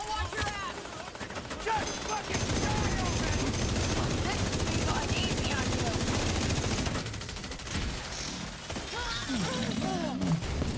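Gunfire during a fight in the shooter game The Division, with sustained rapid automatic bursts and scattered single shots crackling over several seconds, mid-distance, with a voice talking over it.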